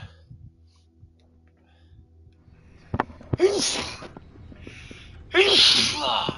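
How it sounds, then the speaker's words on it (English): Two loud sneezes burst out in quick succession after a stretch of quiet room noise with faint clicks, the second sneeze sharper and closer. "I'm sneezing all over the place."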